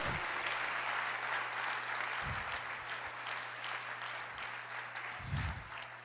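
A church congregation claps steadily throughout, a dense continuous wash of applause in a large worship space, with a few low thumps and a faint hum underneath.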